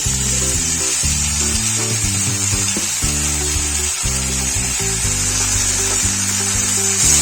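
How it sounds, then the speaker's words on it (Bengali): Cumin, ginger and dried chilli go into a pan of softened tomatoes, producing a constant loud hiss and sizzle under a steady low droning hum, heard close and unbroken with no speech. "এবার বন্ধুরা, আমরা জিরে আদা শুকনো লঙ্কাটা দিয়ে দেবো।"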